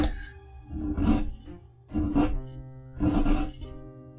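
Reciprocating carving handpiece driving a chisel into wood, three rasping buzzy strokes about a second apart over a constant mechanical hum, close and fairly loud.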